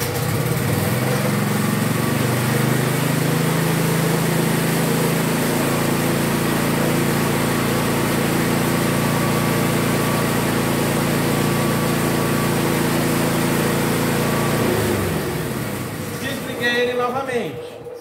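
Mini buggy engine running at a steady, buzzy pitch for about fifteen seconds, then cutting out and winding down near the end.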